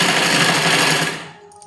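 Sewing machine stitching a suit sleeve, a loud, rapid rattling run up close that stops abruptly after about a second.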